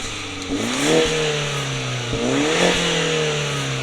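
A car engine revs up twice in a row as the gas is pressed, pitch rising with each press of the throttle, heard from inside the slow daily-driver vehicle.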